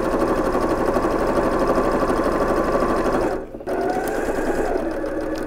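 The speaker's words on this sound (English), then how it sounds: "And you can keep sewing. And you're going to sew the entire length of this strap." A sewing machine stitches steadily along an apron strap, a fast, even mechanical whir and clatter close by, pausing briefly near the end before running on again.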